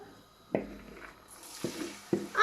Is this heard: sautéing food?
yes